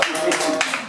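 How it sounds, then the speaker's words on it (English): An audience claps during a fitness talk. The close, sharp hand claps arrive in a quick uneven burst over a brief moment. "a hand of applause"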